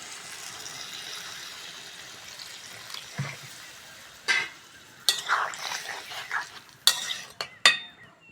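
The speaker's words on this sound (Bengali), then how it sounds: "এবার জল দিয়ে দেবো।" Water poured into a pan of spiced vegetables frying for a Bengali bitter-leaf chorchori, a soft sizzle followed by sharp hissing bursts and spoon clatter as the liquid hits the hot pan, near and uneven.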